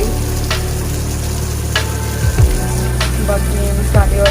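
Food frying in a pan with spices, onion and garlic, a steady close sizzle broken by a few stirring scrapes and clinks, no talking.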